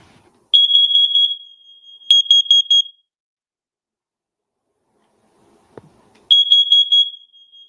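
A carbon monoxide alarm beeps shrilly in rapid electronic bursts, pauses into silence with a brief click, then resumes its piercing pulsed beeping.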